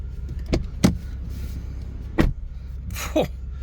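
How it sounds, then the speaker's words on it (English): Doors shutting on a 2024 Genesis G70 with the windows up, heard from inside the car as several short, solid, muffled thuds spaced apart over a low steady cabin hum. "listen to this door shut"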